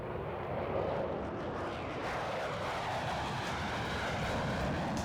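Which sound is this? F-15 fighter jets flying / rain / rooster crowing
F-15 fighter jets flying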